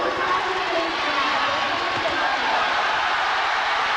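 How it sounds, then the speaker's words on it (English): Crowd noise fills a boxing arena at the 1988 Olympics as spectators react to a fighter's assault, a dense continuous roar under a commentator's voice. "Crowd responding to the assault by Byung"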